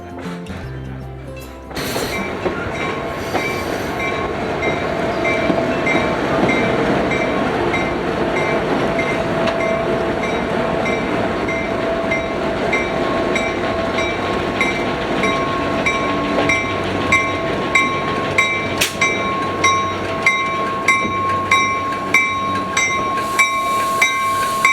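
A Coaster commuter train rolls by with an ATSF caboose leading, a sustained loud rumble with rhythmic clickety-clack of wheels over rail joints growing steady toward the end.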